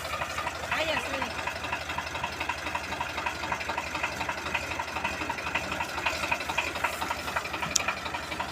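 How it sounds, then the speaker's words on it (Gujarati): A farm tractor's engine runs with a steady low rhythmic throb, heard nearby under people talking throughout. "અમારા બાપાની મોજ હો આજ તો ટ્રેક્ટર હાકે"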